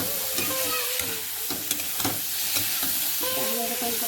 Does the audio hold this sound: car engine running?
no